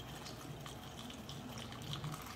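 Kombucha pours from a container into a bottle holding a little juice, a faint, steady liquid trickle and splash that continues unbroken.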